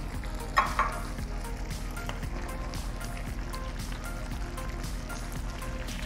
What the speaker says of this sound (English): this is just to allow me space to stir the pottage